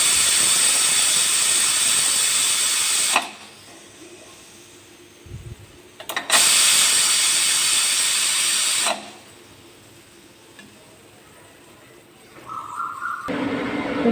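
A pressure cooker's whistle lifted with a spatula to release steam, giving two loud, close bursts of roaring hiss about three seconds each, separated by quieter gaps, then a brief tonal squeal and renewed hissing at the end.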